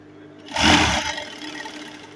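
A sewing machine stitches down Ankara dress fabric in a single short, close whirring run of about half a second that then fades into a lingering hum.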